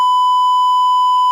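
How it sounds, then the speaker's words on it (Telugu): A single steady censor beep, a pure electronic tone held loud and unbroken for just over a second, replacing a word in political speech. "అక్కడ బీప్ వేశారు."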